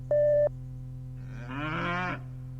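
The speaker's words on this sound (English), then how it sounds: "Cow. A cow is a farm animal." A single cow moos once, a steady, fairly loud low call lasting under a second, preceded by a brief electronic tone over a constant hum.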